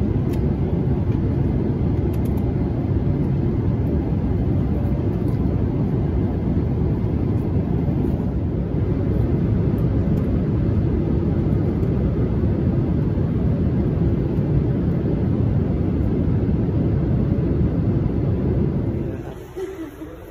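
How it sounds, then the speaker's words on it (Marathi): An airplane cabin on a flight nearing Abu Dhabi fills with a steady, loud, low engine roar that holds unchanged for about twenty seconds before dropping off abruptly at the end. "मुंबईला जायचं प्लेन"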